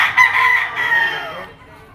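A yellow-legged bulik gamecock crows once, loud and close, a single drawn-out call that fades at the end.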